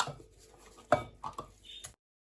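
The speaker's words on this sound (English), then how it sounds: "So I'm going to just scrape my seasoning out in here." Spicy Jamaican pork pot-roast seasoning is scraped out of a container in a few short, close scrapes and knocks, quiet and brief, ending abruptly in silence.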